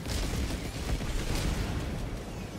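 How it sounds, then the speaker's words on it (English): Airstrike explosions in a video game form a dense, continuous low rumble of blasts and booms that rolls on steadily without any break. "Just so I can toss the airstrike."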